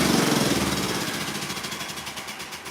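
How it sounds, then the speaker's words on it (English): An air compressor repowered with a 5 hp Vevor motor runs loudly and close, a steady pulsing mechanical drone with a rapid thumping rhythm that eases slightly over time. "turn this noisy compressor"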